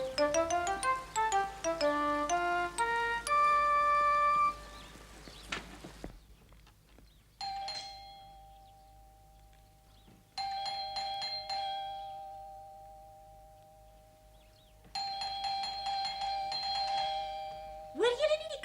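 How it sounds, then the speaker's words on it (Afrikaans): A doorbell rings several times in a cartoon home, each chime ringing out clearly and decaying, after an opening run of melodic tones with a voice heard in between. "Hoor julle nie die klokkie nie?"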